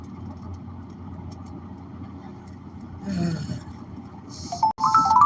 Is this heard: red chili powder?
no